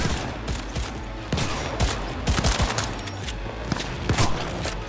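Continuous gunfire from a weapon in Cyberpunk 2077, loud and close, with rapid repeated shots and heavier blasts layered over a busy combat background.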